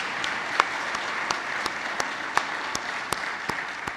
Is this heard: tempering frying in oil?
no